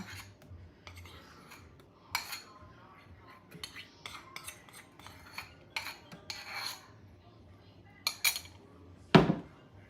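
Utensil stirring vanilla into a melted chocolate mixture in a bowl for brownie cookies, with soft scraping and occasional clinks against the bowl, faint and intermittent, ending in a sharper knock.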